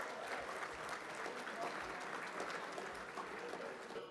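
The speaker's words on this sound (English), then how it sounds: "Give yourselves a round of applause for that." Steady, fairly faint applause from a large audience at an awards gala, continuous clapping throughout with no clear pauses.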